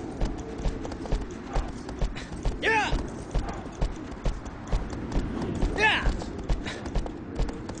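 A horse's hooves clip-clop steadily in the video game Shadow of the Colossus, with windy outdoor ambience, and someone talks over the rhythmic trotting.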